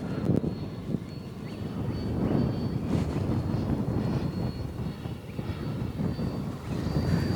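A Freewing English Electric Lightning model electric jet flies after a hand launch, its ducted-fan roar steady and fairly loud throughout, with gusty wind buffeting the microphone.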